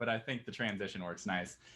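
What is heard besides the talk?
No everyday noise stands out behind the speech.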